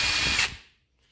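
An Ozito 18V cordless three-speed impact wrench runs on speed 3, a loud close whirring burst lasting about half a second before cutting off and fading into near silence.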